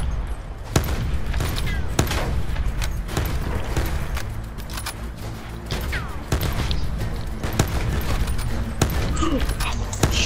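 Video game sniper gunfire ringing out as sharp, separated shots and thumps at irregular intervals over busy background game noise, with a voice talking intermittently.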